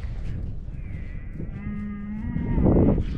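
South Poll cattle on a farm in spring give a single drawn-out moo that swells louder toward the end, alone over quiet outdoor background.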